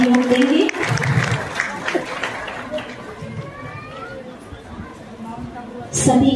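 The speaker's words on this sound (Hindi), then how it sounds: "हम सभी तालियों के द्वारा इस सम्मान में" Audience applause at a ceremony where a gift is presented in honour of a guest, a broad wash of clapping that starts strong, then thins and lingers under crowd murmur before swelling again at the end.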